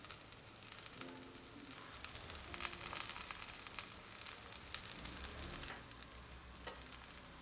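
Breakfast batter fries in oil in a pan with a soft, continuous sizzle and crackle that swells briefly midway, quiet and close with no voices.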